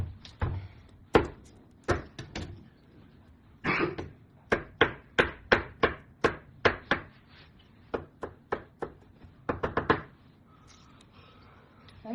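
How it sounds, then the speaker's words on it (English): A knife crushes and minces a garlic clove on a cutting board: about two dozen sharp, close chopping knocks, sometimes in quick rhythmic bursts and sometimes with short pauses, with no talking. "Now I will be crushing and mincing 1 garlic clove."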